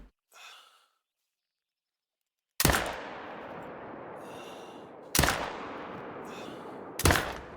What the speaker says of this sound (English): we're gonna have to take kind of a front-on shot on that buck there